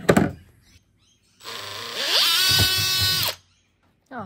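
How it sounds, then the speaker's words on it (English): A power drill whines for about two seconds, its pitch climbing as it bites into a hard plastic compost toilet flange, then stops abruptly; brief clunks before and after. "I'm just going to drill a few holes in this flange"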